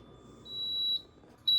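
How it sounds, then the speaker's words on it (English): Kitchen timer sounding two electronic beeps, one long steady tone then a second starting near the end, over a quiet low kitchen background. "I'll show you once the little timer goes off"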